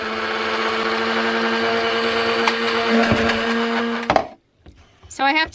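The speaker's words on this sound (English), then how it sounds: "this isn't a very powerful grinder" An electric blade coffee grinder whirs steadily as it chops coffee beans, loud and continuous for about four seconds, then cuts off; after a brief pause a voice is heard near the end.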